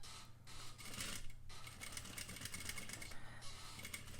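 Sewing machine stitching a facing on a concave or convex curve, a faint steady mechanical whir with rhythmic ticking and brief dips, running continuously near the microphone.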